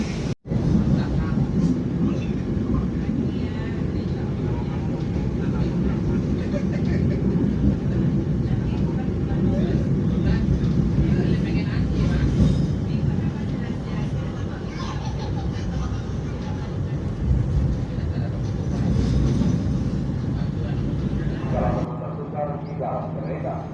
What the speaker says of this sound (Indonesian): Perjalanan kereta api Jakarta tiba di stasiun Caruban.